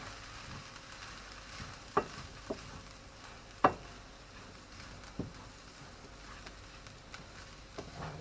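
A tablespoon of plain flour being stirred into a pan for a greens mac and cheese sauce: a faint, quiet sizzle with scattered sharp clicks and scrapes from the spoon against the pan.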